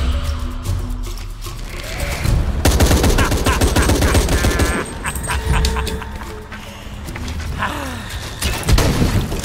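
Bursts of automatic and single-shot gunfire in the video game Shadow of the Tomb Raider, dense and loud over game sounds and effects throughout.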